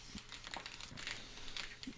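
Board game cards from Too Many Bones, a tabletop game, being shuffled by hand at close range: a quick run of soft papery riffles and flicks with light taps, fairly quiet and steady, with no talking.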